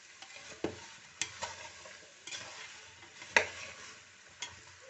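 A spoon stirring steamed vegetables in a pressure cooker, with scattered soft clinks and knocks against the metal over a faint sizzle.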